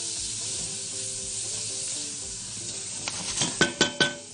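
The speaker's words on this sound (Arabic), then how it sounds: "ونقلب يا سعاده الباشا كل ده مع بعضه." A hot pan mixture with cumin sizzles steadily, then a run of loud, close scraping strokes near the end as it is stirred, with no talking.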